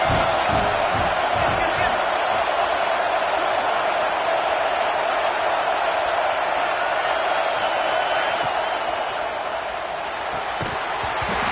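Dense stadium crowd roar at a football game, a steady loud wash of many voices with scattered shouts and whoops, continuous throughout with no clear breaks.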